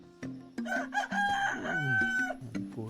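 A single loud, nearby rooster crow with a long sustained final note, heard over a low steady background hum.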